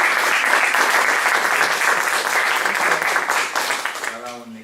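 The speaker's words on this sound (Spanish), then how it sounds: "Un aplauso para..." Applause from the audience at a public forum on regional elections and democracy: a steady, dense wash of clapping that starts at once, holds evenly and then thins near the end as a voice comes in.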